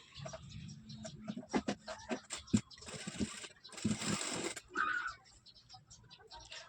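A domestic sewing machine stitches a blouse in short bursts of mechanical whirring with pauses between runs, loud and close, joined by a couple of longer continuous stretches of stitching.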